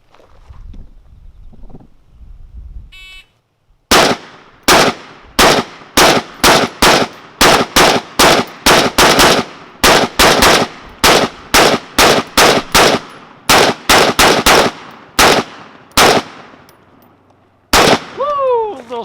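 Rapid rifle fire from an AR-style rifle, an Arsenal 107R or ZPAP M70, in an outdoor shooting drill: loud, sharp shots in fast strings with brief pauses between targets, then a final lone shot.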